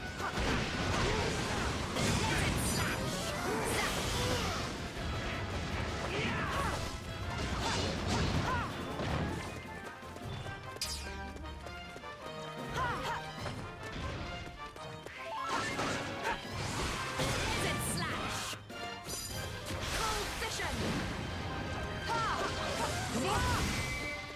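In the Dragon Quest Heroes video game, a barrel is smashed amid dense battle noise, with sharp crashes and whacks repeating across a busy, continuous mix of game effects.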